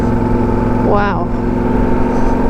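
A car overtakes on a road in Norway, heard from inside a vehicle as a steady engine and road drone with a brief rising-and-falling swoosh as the other car passes.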